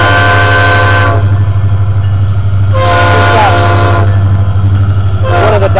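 Loud, high-pitched horn on a Norfolk Southern manifest freight train in Fostoria, Ohio, one diaphragm sealed so the chord sounds off, blowing in long near blasts over the steady rumble of the passing train.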